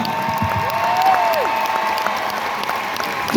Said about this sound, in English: So give your own strings a huge round of applause.